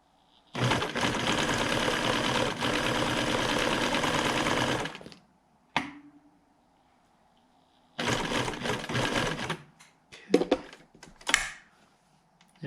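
Sewing machine stitching upholstery on the seat of a 1996 Ford F-350 truck: a loud, close, fast mechanical whir running about four seconds, a brief pause, then another burst and a few short stitches and knocks.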